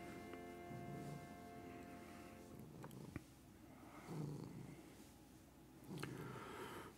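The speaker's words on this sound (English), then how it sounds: "everyone can hear you purr now." A house cat purrs softly and steadily up close, its rumble swelling and fading in a slow breathing rhythm.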